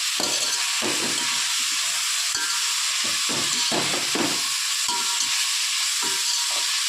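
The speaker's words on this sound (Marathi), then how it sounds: "चांगलं परतून घ्यायचे कांदा" Onions sauté in a pan for chicken biryani, giving a loud, constant, close sizzle with intermittent stirring scrapes and knocks and no voices.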